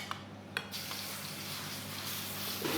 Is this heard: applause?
no